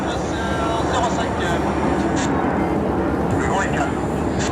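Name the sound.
airplane flying past at an air show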